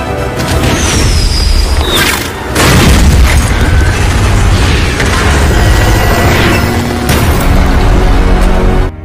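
A loud, heavy blast from an RPG in an action film, with a deep rumble that sustains and swells around the two-second mark, then dense crashing and debris noise continuing throughout.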